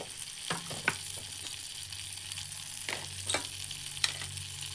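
Ghee and oil sizzle steadily in a pan while dal is tempered, a faint continuous crackle broken by a few sharp spits and light stirring clicks, with no voices.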